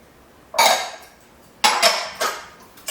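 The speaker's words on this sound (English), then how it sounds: "So I'm going to give this a good mix." Casserole ingredients with sharp shredded cheddar being mixed in a bowl, giving three bursts of scraping and clinking utensil-on-bowl noise, loud and close, with no talking.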